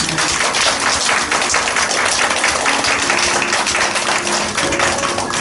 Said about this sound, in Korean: 이렇게 귀한 자리 마련해 주신 우리 목사님께 박수 한번 쳐드립니다